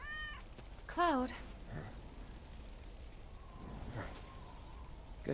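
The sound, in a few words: cat meowing in the video game Final Fantasy 7 Remake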